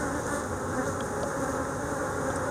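Honeybees buzzing steadily during a March hive inspection, a dense, continuous swarm drone close by with no talk over it.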